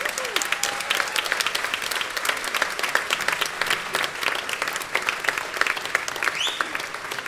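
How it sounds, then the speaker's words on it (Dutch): Dense, steady applause from a concert audience at a music night in Sint-Lenaarts, honouring the percussionists; continuous clapping fills the whole stretch at even loudness with no talk over it. "Geef ze toch nog maar eens een daverend applaus."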